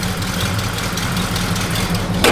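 A 1969 Pontiac Grand Prix V8 with a slight exhaust leak on one side idles up close, a steady low rumble with a faint ticking pulse, ending in a brief louder burst.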